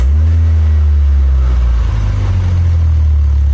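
A Toyota Celica ST project car, just fitted with a new turbo pipe, runs at idle with a loud, close, deep rumble; the engine note shifts slightly partway through and stays steady to the end, with no voices.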